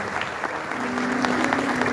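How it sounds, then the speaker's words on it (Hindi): Audience applause for a Pakistani tabla legend at a live classical music event, a steady wash of many hands clapping that grows slightly fuller, with a faint sustained tone running underneath. "उस्ताद जिमी खान साहब, इनके लिए ज़रा भरपूर ताली होनी चाहिए।"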